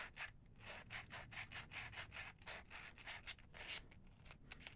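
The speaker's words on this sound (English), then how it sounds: "We're going to sand this." Hand sanding of bare brass after soldering, a steady series of quick rasping back-and-forth strokes, close and moderately loud, with no talk.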